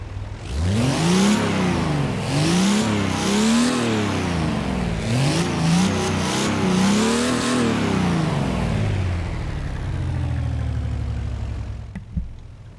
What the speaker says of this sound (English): let's hear how this thing sounds